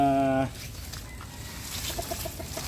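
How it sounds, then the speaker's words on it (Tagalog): Chickens cluck softly in a short run of rhythmic calls, heard nearby after a brief harmonic cry at the start, with faint background noise. "Nag-evacuate ng lugar Ang mga manok na bakwit."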